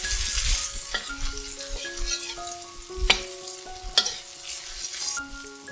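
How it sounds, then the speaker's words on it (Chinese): Ginger stir-frying in hot oil in a wok: a steady bright sizzle with bursts of stirring and scraping, close and loud, with no talk. "倒入适量的油，待油热后放入姜，"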